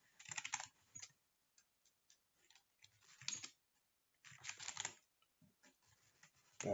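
Typing on a computer keyboard comes in irregular clusters of close clicking keystrokes, with short pauses between bursts and no talking.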